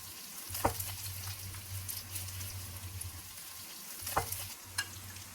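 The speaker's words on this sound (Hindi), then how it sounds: "इसको थोड़ा थोड़ा हिलाते रहें ताकि दोनों तरफ से पक जाए।" Potatoes with cumin seeds and curry leaves frying in a pan for zeera aloo, a soft steady sizzle under a low hum with a few scraping stirs of a spoon.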